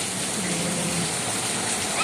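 Heavy rain pouring during days of bad weather, seen from a balcony, as a steady broadband hiss and wash that stays constant and fairly loud throughout, with no clear voices over it.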